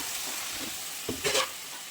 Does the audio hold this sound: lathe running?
no